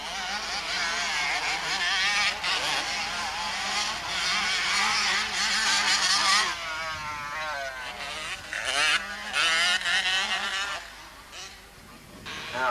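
Two-stroke racing motorcycles at the Doon 2004 road race scream past at full throttle, engines rising and falling in pitch as they approach and pass, loud and continuous, with a commentator talking over them.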